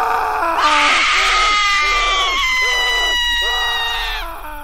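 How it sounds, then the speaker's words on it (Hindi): A man and a woman scream together in a horror sound effect, loud, shrill and sustained for about four seconds, their cries overlapping and wavering before fading out at the end. "उस चीख में दो आवाजें थी, एक औरत की और एक आदमी की।"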